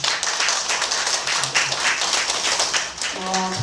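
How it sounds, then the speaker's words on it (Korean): A church congregation claps during a Sunday morning worship service to welcome a new accompanist, the steady dense applause filling the room before a voice and a brief piano tone come in at the end. "우리 박수 한번 쳐주세요."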